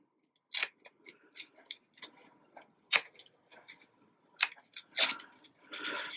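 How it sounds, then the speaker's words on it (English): Scissors snipping the corners off folded paper, a series of sharp, close clicks and crisp cuts in irregular bursts separated by short pauses. "just take your scissors and cutting from the straight edge to the crease line, just cut the corners off at an angle"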